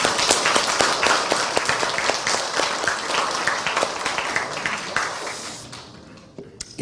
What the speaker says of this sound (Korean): 우리 성가대 우리 친구들에게 여러분 감사와